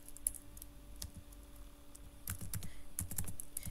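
Code being typed on a computer keyboard, a quiet, uneven run of key clicks that bunches into quicker bursts toward the end, with no talking.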